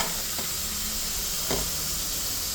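Food frying in a pan, a steady broadband sizzle throughout with a couple of brief louder crackles, no voices.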